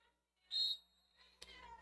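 A referee's whistle gives one short, sharp blast to start a roller derby jam, followed by faint arena noise and a brief clatter.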